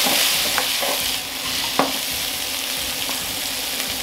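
Spring onions frying in oil in a wok, a steady loud sizzle with occasional sharp clicks of a utensil stirring against the metal.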